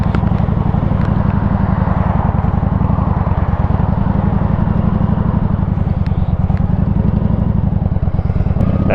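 A motorcycle engine runs loud and close with a rapid, steady pulsing throb while lanesplitting through traffic in an overheating condition, holding a constant rumble throughout.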